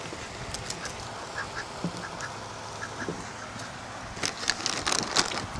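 A duck quacks in short bursts against a noisy outdoor background, the calls growing louder and more frequent toward the end.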